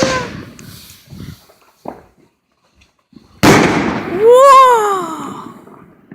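Backyard fireworks burst in a sudden loud crack, followed by a rising whistling screech that fades, with softer pops and crowd noise beforehand.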